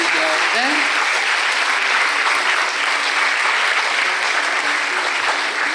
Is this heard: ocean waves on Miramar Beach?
no